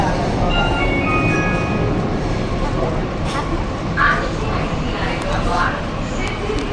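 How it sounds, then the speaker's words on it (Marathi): Steady low rumble of a metro train running between Dadar and Chhatrapati Shivaji Maharaj Terminus, with broadband rail noise filling the clip and voices murmuring faintly underneath. "मेट्रोने प्रवास करतोय"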